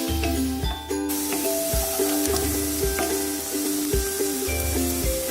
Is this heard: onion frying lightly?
yes